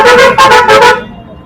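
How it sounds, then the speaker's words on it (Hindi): A car horn honks in three loud, sustained blasts with short gaps between them in Agra, India, then cuts off, leaving a faint background hum. "और बजा लो हॉर्न, और बजा लो, और बजा लो।"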